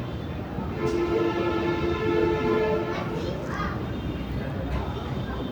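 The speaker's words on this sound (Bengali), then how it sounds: "এই স্টেশনটি দেশের প্রথম আইকনিক রেল স্টেশন নামে পরিচিত" A train at Cox's Bazar railway station, a modern shell-shaped terminal, rumbles steadily with a drawn-out horn-like tone near the start, under a busy platform with children's voices and chatter in the background.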